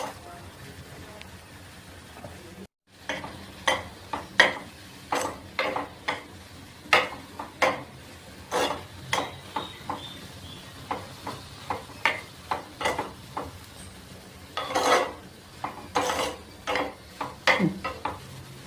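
Fish roe fry being stirred in a pan, a rapid series of sharp scraping clacks from a spoon against the pan with a faint sizzle underneath, close and fairly loud.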